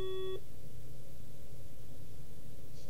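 A single short keypad tone from pressing # on a SOHO SP-208 phone system, a clean pitched beep at the very start, followed by steady line hiss and low hum.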